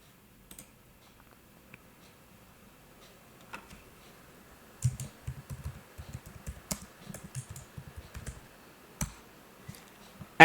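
A password is typed on a computer keyboard, heard as quiet, close keystroke clicks. They come in a few sparse taps at first, then a quick denser flurry of typing in the middle, followed by a few last taps.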